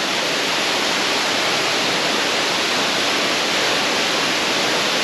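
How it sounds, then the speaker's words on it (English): A waterfall in Pai, Thailand, heard up close as a loud, steady, unbroken hiss and rush of falling water with no other sounds. "still happy to see the waterfall"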